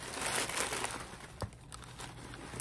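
Crinkling of plastic packaging wrap from an opened mail parcel, handled up close in a steady rustle with one sharper crunch midway.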